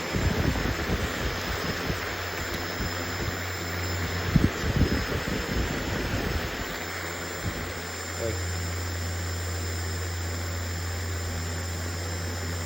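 A 3D printed RC SuperNova airplane's electric motor and propeller whir steadily at low throttle on a test, a continuous close buzzing hum with a few clatters and knocks early on.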